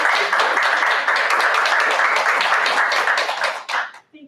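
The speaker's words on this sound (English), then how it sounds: "we're going to give you a round of applause." A small audience at a special board meeting claps together in a steady, fairly loud burst of applause lasting about four seconds. It thins and fades out quickly at the end, with no voices over it.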